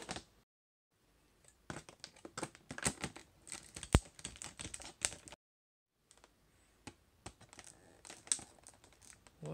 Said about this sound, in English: I'm going to cut up in the plastic, and then I will unbox this for you